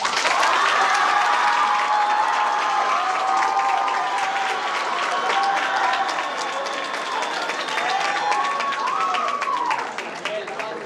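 An audience at a finals event claps together in a sustained, fairly even round of applause that stays steady throughout and tapers off slightly near the end, with a voice speaking faintly beneath it.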